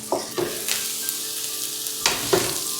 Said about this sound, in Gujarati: ફક્ત એક મિનિટનો ટાઈમ લીધો હશે અને ગાજર સરસ તળાઈ ગયા છે